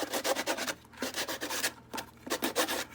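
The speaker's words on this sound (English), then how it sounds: "just take your little sanding block, and if you want, just get some of the rough edges off and stuff." A small sanding block rubs back and forth over the rough edges of a handmade paper junk journal, giving a series of close, dry scratchy strokes in bursts with short pauses between.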